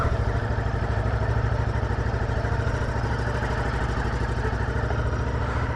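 A Ducati Multistrada V2S motorcycle's V-twin engine runs steadily and close by, a continuous pulsing throb with a dense, even rhythm throughout and no talk over it.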